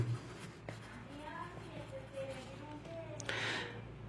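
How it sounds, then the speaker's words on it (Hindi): A marker or chalk scratches across a board during a chemistry and physics lesson, brief strokes and squeaks with a longer rasp near the end, while a teacher talks over them. "तो क्या लिखेंगे, क्लोजली पैक्ड"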